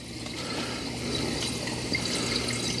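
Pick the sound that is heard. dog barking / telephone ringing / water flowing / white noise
water flowing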